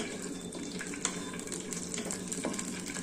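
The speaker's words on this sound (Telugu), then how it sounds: "ఎల్లిపాయలండి, ఇట్లా బాగా వేయించుకోవాలి." Garlic fries in a pan with a faint, steady hissing sizzle and a couple of light stirring taps, low in level.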